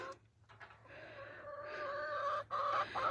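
Backyard hens cluck steadily on a cold, frosty morning, a close, moderately loud run of murmuring clucks that builds slightly before a brief pause and resumes.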